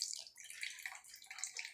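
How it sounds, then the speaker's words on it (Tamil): Tamarind water poured into a pot for anchovy fish curry, a soft continuous splashing trickle that rises and falls over a couple of seconds, close by and fairly quiet with no talking. "இப்போ புளி கரைச்சி ஊற்றுட்டு"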